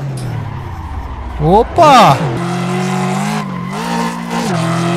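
In the Assetto Corsa racing game, a Mustang GT drifts with a loud engine growl and a burst of tire squeal and skidding partway through, then keeps revving steadily. A voice briefly exclaims over the sound.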